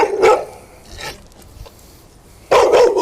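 Dogs barking in an on-leash park area: a few sharp, loud barks in separate bursts at the start, around one second and again near the end, with quieter gaps between.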